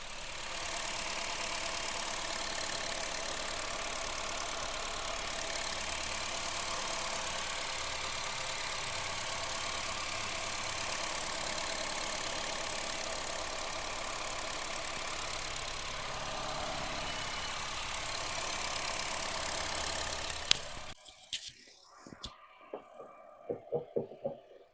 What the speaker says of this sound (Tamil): இப்போ வண்டியோட இன்ஜின் சவுண்டை நான் உங்களுக்கு மைக்கை பக்கத்தில் வச்சு காட்டுறேன்.